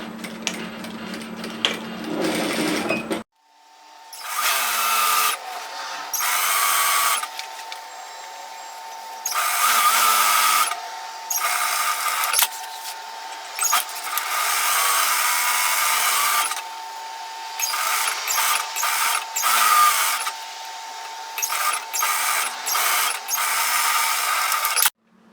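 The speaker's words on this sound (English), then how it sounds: "we're going to sew a 1 centimetre seam down both sides" A sewing machine stitching a one-centimetre seam on messenger bag fabric, running in loud close bursts of motor whir separated by short pauses, after a brief quieter stretch at the start, with no speech.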